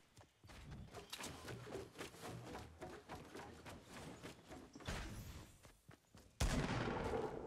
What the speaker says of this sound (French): Ah ça tire